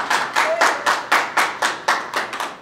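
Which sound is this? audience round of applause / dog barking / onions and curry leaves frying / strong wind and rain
audience round of applause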